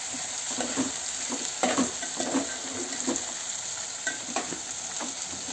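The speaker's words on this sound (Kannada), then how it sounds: "ಈಗ ನೀರು ಹಾಕ್ಬಿಡೋಣ." Water poured into a hot pan of avarekayi uppittu sets off a steady frying sizzle with stirring clatter, loud and close, with scattered spoon scrapes and no talk.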